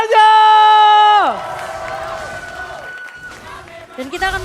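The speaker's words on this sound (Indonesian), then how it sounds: "Empel Arena, mana tepuk tangannya?" Arena crowd at a Mobile Legends MPL Indonesia Season 12 esports match between AURA and RRQ cheers loudly, a sustained roar that opens on a strong tonal note and then fades into steady crowd noise with scattered shouts and whoops.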